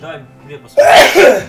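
A single abrupt, loud sneeze bursts out right after a man's quiet speech, sharp and close.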